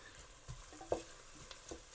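A spoon scrapes and taps in a pan as garlic is stirred while frying, several soft scattered knocks over a faint low sizzle, quiet and close with no voices.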